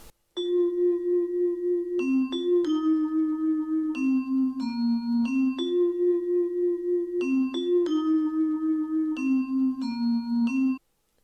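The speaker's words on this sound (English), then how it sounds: "I then decided to add a layer to this string by layering it with the Vibraphone" A sustained string sample layered with a Decent Sampler vibraphone plays slow chords, each bell-like vibraphone strike ringing over held string tones in a steady, repeating pattern for about ten seconds.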